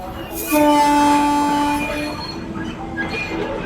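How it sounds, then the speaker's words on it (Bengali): A train pulls into a station platform, its horn sounding in long sustained tones over the rumble and metallic squeal of wheels, loud and close, then easing into a steady rolling noise. "ট্রেন এসে গেছে। কেদার ট্রেনে উঠে পড়েন।"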